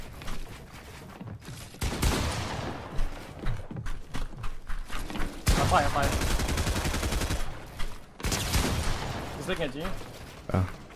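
Gunfire in the Fortnite battle royale video game, a 2v2 Zone Wars match, with bursts of shots scattered through the clip under steady player talk and game noise.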